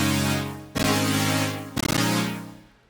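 Serum synth chord preset: a bright, sustained chord that restarts twice in quick rhythmic stabs, each swelling and then softening, ending as the sound fades away.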